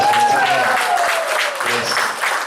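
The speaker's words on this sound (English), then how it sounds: "Give a round of applause." Audience applause at a Technovation 2018 event honouring Nigerian schoolgirl gold winners: a dense patter of clapping under a voice speaking over it, the clapping continuing to the end.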